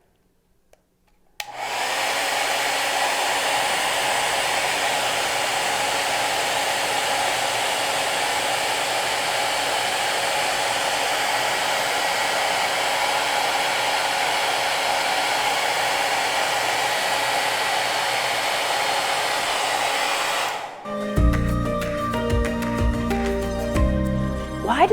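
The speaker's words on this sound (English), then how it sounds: "Now we're going to go ahead and turn the hairdryer so the ball is floating at an angle instead of straight up and down." A hair dryer blows a steady, loud stream of air that keeps a ping pong ball floating at a tilted angle; the drone runs unbroken for about twenty seconds, then cuts off, leaving brief clatter.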